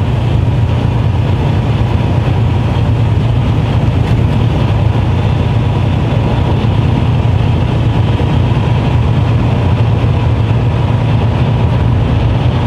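A vehicle rolls across a bridge over the Mittellandkanal, producing a steady, loud low rumble of driving noise from inside that holds unbroken from start to finish.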